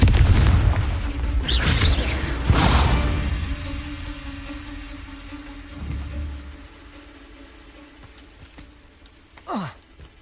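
Spell blasts from Hogwarts Legacy, the Confringo and Bombarda curses, burst as a couple of heavy booming explosions early on, fading into rumble with a softer thud later and a brief rising whoosh near the end.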